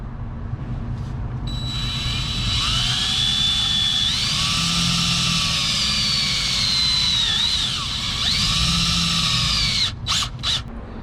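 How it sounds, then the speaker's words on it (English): A power drill drives a self-tapping screw into a leaking differential seal on a Dodge Viper, whining loudly and steadily for several seconds with pitch changes as the load shifts, then stopping in short bursts. "So I'm going to screw this self-tapping screw in, and then screw that adapter to the slide hammer"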